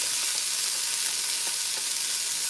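Sweet red peppers and onions sizzling in a pot for chicken taco soup: a dense, even hiss of frying, close up, with faint stirring clicks underneath.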